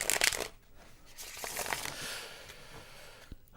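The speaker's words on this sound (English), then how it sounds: "get one more good shuffle in there and we'll pull your first card" Tarot cards shuffled by hand, quick papery riffling and crinkling bursts at close range, fairly quiet with brief pauses between.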